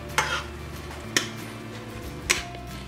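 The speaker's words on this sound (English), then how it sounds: "I'm gonna just mix this all together" A spoon scrapes through a warm mix of milk and Greek yogurt in a pan over low heat, three distinct stirring scrapes about a second apart against a faint background, close and quiet, no talk.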